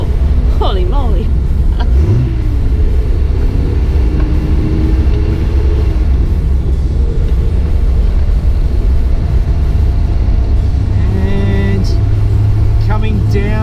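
A home-built Datsun 240z drives on a hilly track, its engine a loud, continuous close rumble mixed with wind roar, with brief voices in the cabin.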